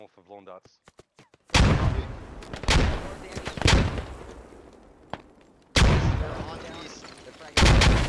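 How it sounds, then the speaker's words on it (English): Grenades and gunfire in a video game, several heavy booming blasts with long rumbling decays following a few quick sharp shots, loud and close. "Grenades come in."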